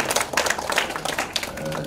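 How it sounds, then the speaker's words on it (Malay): Audience clapping for a student emcee at a university signing ceremony, a short, uneven burst of individual claps heard close and fairly loud, fading slightly toward the end. "Kita berikan tepukan pelajar kita."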